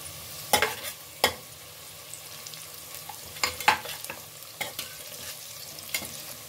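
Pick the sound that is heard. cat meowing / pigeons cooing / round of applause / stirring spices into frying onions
stirring spices into frying onions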